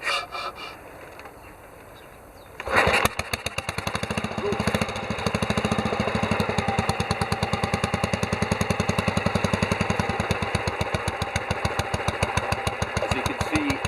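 A 2007 Royal Enfield Bullet 350 single-cylinder motorcycle with trials modifications and a hot engine fires up and settles into a steady idle, a regular rapid thumping beat that stays even and close throughout.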